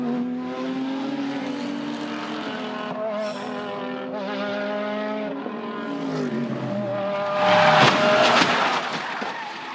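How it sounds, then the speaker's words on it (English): Race cars at the Bathurst 12 Hour endurance race, engines holding steady high notes before shifting down, then a sudden louder burst of noise like a car slamming into a stopped car at about 200 km/h, with engines continuing after. "Here comes John Martin now. That's what 200 Ks into a stopped car sounds like."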